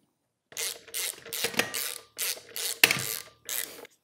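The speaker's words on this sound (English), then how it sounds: "You install all 6 of the main body bolts." Six main body bolts being installed by hand on a Rhino Pro-Series gas post driver, giving a series of short ratcheting, clicking metal bursts, close and fairly loud, with brief pauses between them and no talking.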